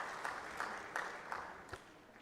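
An audience at a national alternative dispute resolution summit gives a panel a round of applause: a quiet, distant patter of clapping with a few sharper claps standing out.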